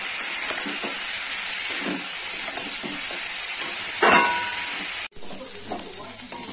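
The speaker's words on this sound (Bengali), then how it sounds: "আলুগুলোকে আমি ভালো করে মুচমুচে করে ভেজে নেব।" Potato slices with salt and turmeric frying until crisp in a pan, a steady close sizzle with faint stirring scrapes running throughout, briefly dropping out near the end before resuming.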